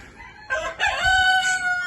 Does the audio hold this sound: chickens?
yes